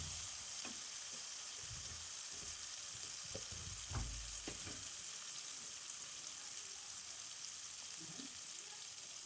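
Garlic frying with onions in a pan, a faint continuous sizzle with a few soft stirring clicks and scrapes.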